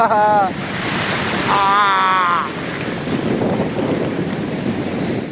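Ocean waves wash and break against a Moroccan shore under gusty wind noise, with brief whistling tones early on and a steady surf roar throughout.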